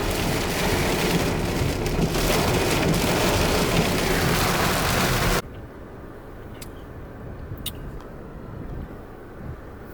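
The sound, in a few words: rain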